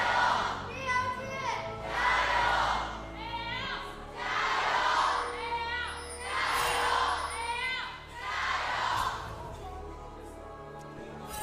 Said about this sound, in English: bring me in this home crowd